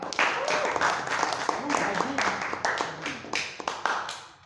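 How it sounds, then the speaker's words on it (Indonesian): Classroom applause for two students after a poetry reading, scattered quick clapping from a group with voices and chatter mixed in, thinning toward the end. "Beri tepuk tangan untuk Mas Randy dan Mas Iman"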